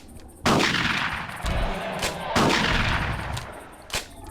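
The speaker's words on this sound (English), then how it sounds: "Might as well just shotgun this." Shotgun fired at a Sinraptor in the video game Carnivores Genesis, two sharp loud blasts about two seconds apart, each trailing off into a rumbling decay, with a fainter crack near the end.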